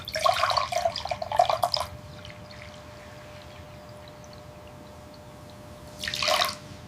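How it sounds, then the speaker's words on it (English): Coffee base liquid is poured from slightly high up in two bursts, a splashy trickling stream for almost two seconds, then a quiet pause with faint background, then a shorter pour near the end; nobody speaks. "Pouring the base."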